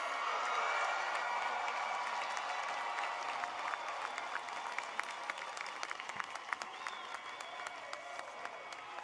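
Sustained applause from a large audience at Rice University's 2025 commencement ceremony for Will Rice College degree candidates, a steady, even wash of many hands clapping with no voices over it.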